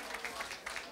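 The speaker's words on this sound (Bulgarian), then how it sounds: "Аплодисменти за него" Applause from the audience at a Bulgarian folk music awards ceremony, a steady wash of clapping with a few louder bursts, continuing for about a second.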